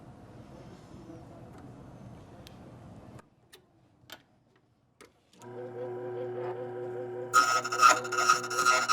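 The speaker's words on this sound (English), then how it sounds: "we have to switch sides so we can cut both sides of the key." A key cutting machine duplicates a 2002 Ford F-150 key: a faint grinding rasp, then a pause with a few clicks as the key is flipped, followed by a louder steady whirring cut that grows harsher toward the end.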